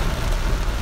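Heavy rain coming down as a dense, steady hiss with soft patter beneath, close and unbroken through the brief moment.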